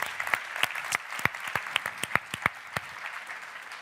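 Audience applause at a French evening event, rhythmic unison clapping at a steady beat, moderately distant, with no talking over it.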